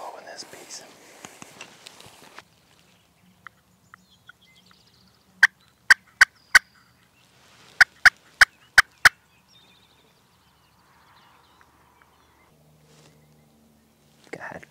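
A wild turkey in a Nebraska field during a hunt gives two short bursts of sharp, clipped gobbling. Quiet whispered talk comes before and after the calls.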